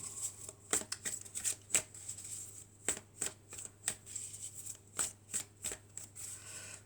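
Oracle cards being shuffled by hand, a series of crisp riffling and slapping bursts in irregular rhythm, close and fairly quiet over a low steady hum.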